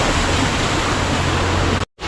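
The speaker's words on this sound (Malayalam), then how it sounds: "ചൂടുള്ള വെള്ളച്ചാട്ടം" A hot spring waterfall at Puning in Angeles, Philippines roars as a loud, unbroken wash of falling water close by, cutting out briefly near the end before resuming.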